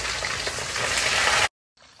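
Pre-boiled mackerel (ikan kembung) frying crisp in hot oil, a loud steady sizzle and crackle close up that cuts off abruptly, then a quieter sizzle resumes after a brief silence.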